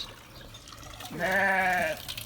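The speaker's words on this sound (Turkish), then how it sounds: "Arkanızda koyunlar var." A single sheep bleat, a wavering nasal call lasting under a second, rising out of quiet outdoor background at a picnic spot in Şile, Turkey.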